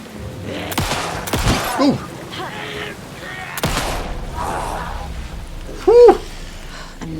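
Gunshots from the video game Alan Wake 2: several sharp, loud shots spread across a few seconds, echoing against background game ambience, with a brief exclaimed voice near the end.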